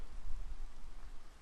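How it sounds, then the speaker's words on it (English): Rain falls steadily in the Minecraft modpack Sky Factory, a soft continuous hiss with low rumbling, heard alone for a short moment. "Of course it's raining."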